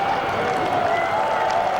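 A crowd of some 40,000 fans at the Pukekohe V8 Supercars race sends up a dense, steady roar of cheering and applause, loud and continuous throughout.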